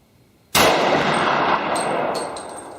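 A Winchester white box 125 grain jacketed hollow point .357 Sig round fired from a Glock 32 with a 4-inch barrel, a single loud, sharp gunshot followed by a ringing metallic decay.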